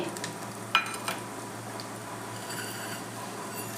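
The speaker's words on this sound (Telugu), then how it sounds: "ఆవాలు చిటపటమన్నాయి దోస్తులు." Cumin and mustard seeds crackle in hot oil in a pan, the start of an upma tempering. The sizzle is a soft, steady hiss with a few sharp pops, close by and with no talking.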